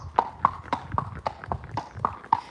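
A black Friesian horse walks with steady, evenly spaced hoof clip-clops, about three per second, close and clear over a quiet background.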